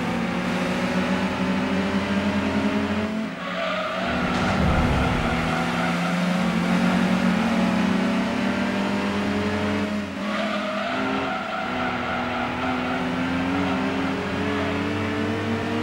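Car engine droning steadily at high revs in the Gran Turismo 2 racing game during a British championship race, loud and continuous with brief dips around shifts or braking, including a short scrubbing squeal midway; no talking.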